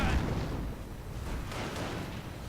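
Continuous mortar and artillery fire in a WWII strategy game, a loud, dense barrage of overlapping booms and bursts throughout, with no speech.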